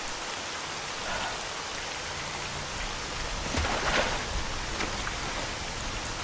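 Steady rain falling in the video game Misery 2.0, a dense, even wash of drops that swells slightly midway, with no voices or other sounds.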